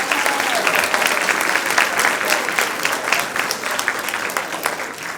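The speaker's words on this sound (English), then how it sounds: "Let's give all these deserving cadets one more round of applause." An audience at a JROTC cadet awards ceremony applauds, a full, continuous crowd clapping that holds steady for several seconds and eases slightly toward the end.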